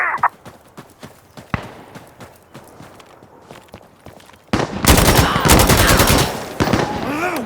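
Insurgency Sandstorm video game gunfire: scattered single shots and distant rounds at first, then a loud, sustained burst of rapid automatic fire close by, with shouted voices mixed in.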